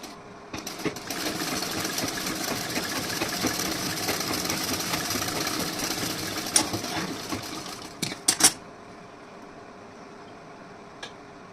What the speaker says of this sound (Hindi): अब इस साइड में भी आपको स्टिचिंग कर लेना उसी तरीके से।